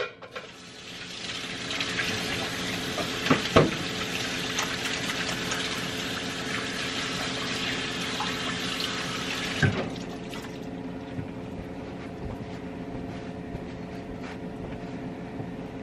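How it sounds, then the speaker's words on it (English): Water runs steadily from a kitchen tap as hands are washed at the sink, a continuous close splashing hiss that drops lower partway through, with no talking. "I'm gonna wash my hands real quick."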